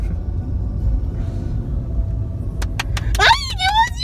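Steady low road rumble from inside a car driving in city traffic beside other vehicles and a motorbike, with a few sharp clicks and a brief rising whine near the end as people talk in the cabin.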